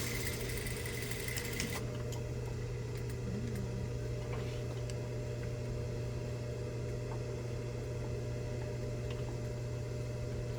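A sewing machine stitching across a patch or cargo pocket holds a steady, even mechanical hum for about ten seconds, close and alone, with faint clicks over it.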